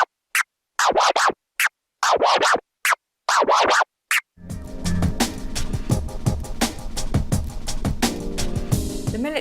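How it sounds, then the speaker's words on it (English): Turntable military scratch, combining babies and stabs: a run of short, choppy record scratches with gaps between them, followed by denser, continuous scratching over a bass-heavy beat. "I'll teach you how to do the military scratch, which is a combination of babies and stabs"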